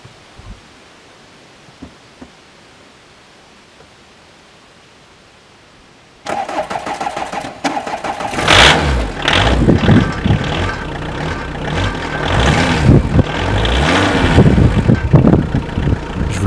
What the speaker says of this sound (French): le Kangoo, il se démarre pas aussi facilement. Je vous laisse plutôt écouter ce doux démarrage.